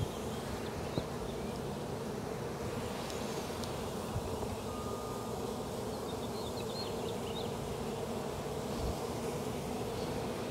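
Bees buzz in a dense, continuous drone around an opened beehive during an April inspection on a hot day, a close and steady swarm hum with faint flies and no talking.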